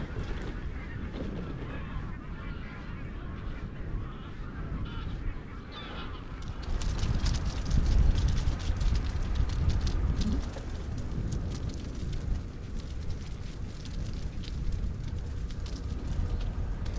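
Geese and other waterbirds call by a river arm near a shooting-club house in Kosel, honking steadily over constant outdoor ambience, louder and busier from the middle onward.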